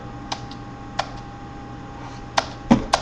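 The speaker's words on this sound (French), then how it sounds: "on va prendre le clavier de l'ordinateur puisque j'en ai un devant moi" A backlit computer keyboard being handled close by, with a few scattered clicks and taps spread over a few seconds against a steady low electrical hum.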